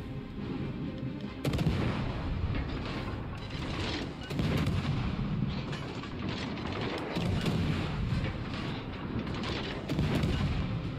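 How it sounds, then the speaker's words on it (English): Heavy naval gunfire in World of Warships Legends, with repeated deep booming shots over a dense, continuous rumble of in-game battle noise, loud and close throughout. "Battleship shot right when the DD got spotted."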